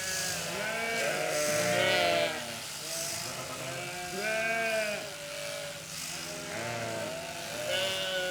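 Sheep bleating repeatedly at a shearing shed, several overlapping wavering cries from a flock close by, loud and continuous with no talk.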